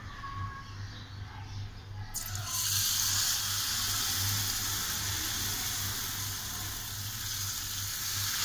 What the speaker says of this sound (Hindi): तेज़ गर्म ऑयल में डालना है।